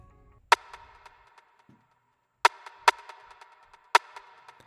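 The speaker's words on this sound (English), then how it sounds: "So I use this rim shot right here." Four sharp, dry rim shot hits from a drum sample in a pop/trap beat ring out alone with short gaps between them, each crack followed by a faint ringing tail.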